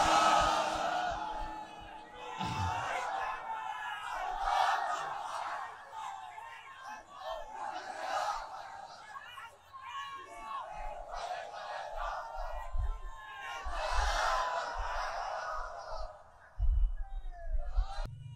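A crowd at an Islamic waz sermon gathering shouts Allahu Akbar back in answer to a takbir call, rising in several loud, roaring waves of massed voices with brief lulls between them.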